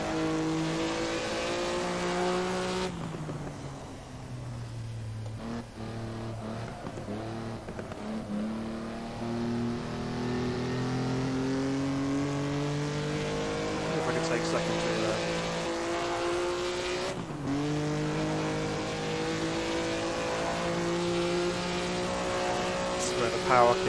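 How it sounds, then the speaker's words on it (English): A drum-braked sports Grand Prix racing car is driven hard on a track, the engine revving up through the gears with sharp shifts and lifts, loud and close throughout, with talking heard over the engine. "these are drum brake sports Grand Prix cars"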